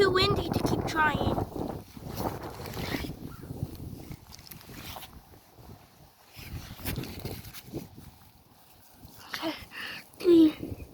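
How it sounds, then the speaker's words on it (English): Strong wind gusting outdoors, buffeting the microphone with a steady low roar that swells and eases, loudest at the start and again near the end, with a few brief voice sounds over it. "It might be too windy to keep trying."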